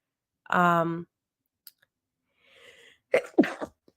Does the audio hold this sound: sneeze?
yes